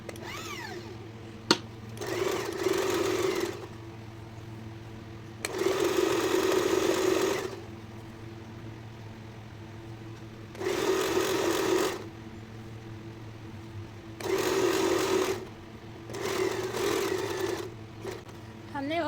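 A sewing machine stitching a seat section of a garment, running in five separate bursts of rapid, even whirring separated by pauses, with a voice in the quieter gaps.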